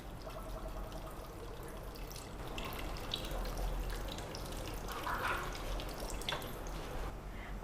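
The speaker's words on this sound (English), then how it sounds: "I have added 2 cups of water to the pan along with the tomatoes and the tamarind." Water is poured into a pan of tomatoes and tamarind for rasam, a soft, steady trickling and splashing that continues for several seconds at low volume.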